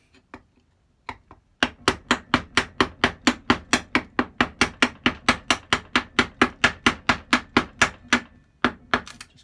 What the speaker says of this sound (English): I'm just going to take the waste out with a chisel, or most of the waste.